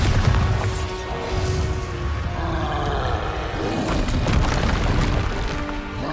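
A Bombarda spell explodes in the Hogwarts Legacy video game, a booming, crashing blast with a roaring rumble that sustains over several seconds.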